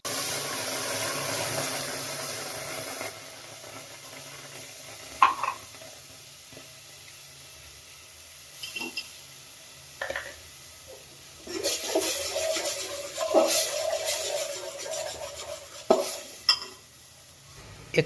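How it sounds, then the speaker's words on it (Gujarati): Coriander-chili paste goes into hot oil with popped mustard seeds for a Gujarati khaman chutney, stirred with a spoon. Soft sizzling runs under scattered scraping and clinking bursts of stirring against the pan. "જે મિક્સરમાં પેસ્ટ બનાવી હતી ધાણા મરચાંની, એને નાખી દેવું અને 2 મિનિટ પકાવવા દેવું"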